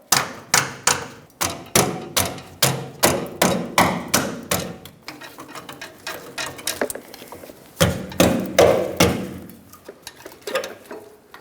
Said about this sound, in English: Take your hammer if needed. Tap these lines out.